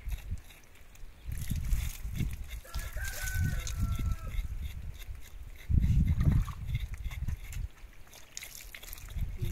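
Chickens cluck and squawk nearby in bursts, with a rooster's thin crow rising briefly among them over a low rumbling background.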